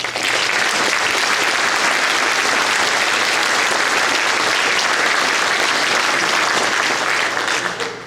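Sustained, dense applause from an audience at a police reserve academy graduation honoring the instructors, loud and steady for about eight seconds before tapering at the end.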